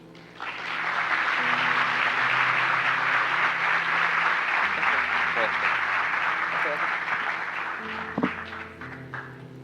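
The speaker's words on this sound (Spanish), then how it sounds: "La vamos a recibir con un aplauso." An audience at an academy lecture on mindfulness in medicine applauds to welcome the speaker: a steady wash of clapping swells and holds for about nine seconds, with faint voices beneath it.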